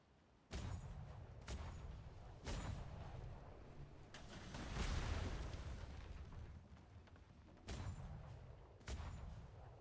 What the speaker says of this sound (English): All right, port side cannons.